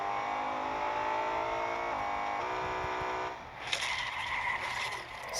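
A BMW M5 in a racing video game accelerates hard in first gear, its engine whine climbing steadily and loud with a brief dip, then a rush of wind and road noise near the end.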